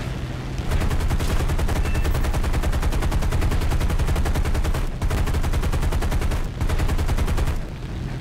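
Sustained burst of .50 caliber machine-gun fire from a B-17 in a video game, a loud, rapid, continuous rattle that breaks briefly twice before trailing off, with no talking.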